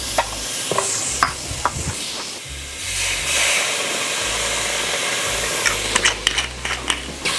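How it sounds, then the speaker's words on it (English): Onions stir-frying in a non-stick pot from a BELLA cookware set, a loud hissing sizzle with spatula scrapes and clicks as they are stirred around. "we're gonna add some onions inside to kind of stir fry it"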